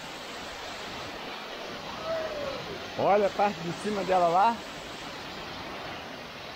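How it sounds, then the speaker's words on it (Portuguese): Steady broadband roar of the Cachoeira do Lobão waterfall, a large cascade in wild country, rushing continuously at close range while a couple talk briefly over it. "Chegando em mais uma cachoeirona, Cachoeira do Lobo."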